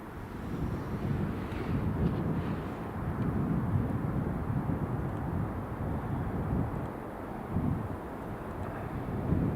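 A British Airways airliner from London Heathrow rumbles low and continuous at Edinburgh Airport, a broad engine roar swelling and easing slightly, mixed with wind buffeting the microphone.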